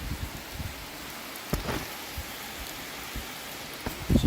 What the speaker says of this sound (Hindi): देखो बारिश काफ़ी तेज़ आ चुकी है